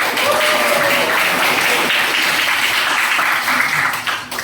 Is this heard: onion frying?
no